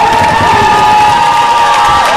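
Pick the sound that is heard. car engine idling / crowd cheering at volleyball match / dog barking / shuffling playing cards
crowd cheering at volleyball match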